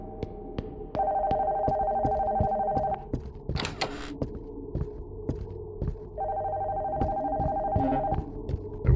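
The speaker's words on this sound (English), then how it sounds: "Phone from upstairs is ringing." An upstairs telephone in the horror game Nocturnal Visit rings in two long electronic bursts, heard through the floor under a steady low throbbing, quick repeated ticks, and a short crackle between the rings.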